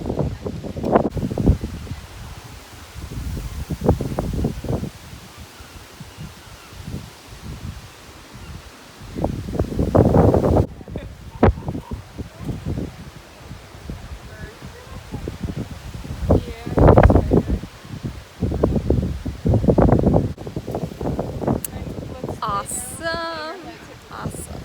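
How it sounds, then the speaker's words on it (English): Strong wind gusts buffet the microphone in loud bursts, with rustling and distant surf between the gusts, on a hiking loop at Pictured Rocks. "It is a very windy day today though."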